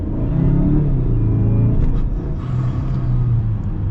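A modified turbocharged Mazda CX-5 SUV engine rumbles loudly and rises in pitch as it accelerates, with a brief dip like a gear shift before climbing again.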